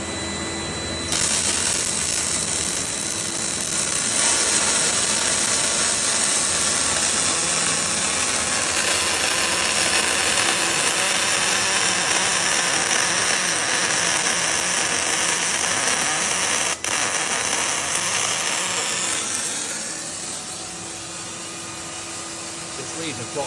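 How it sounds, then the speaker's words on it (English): A welding fume extractor runs steadily beside an ESAB Rebel EMP 215 aluminium MIG welder, a loud constant blower roar holding for about twenty seconds before easing down. "So we're going to turn the fume extractor on."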